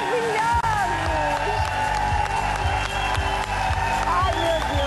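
A television studio audience claps and cheers to welcome guests, a dense, sustained wash of applause with scattered whoops, heard under music and a voice talking over it.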